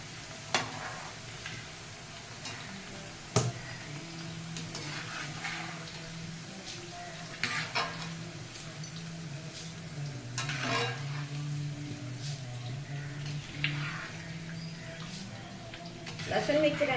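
Flattened rice (poha) hits hot oil and is stirred in a pan for Diwali chiwda mixture, giving a steady soft sizzle with scraping spoon and clinking pan knocks throughout, fairly quiet, with a voice speaking at times.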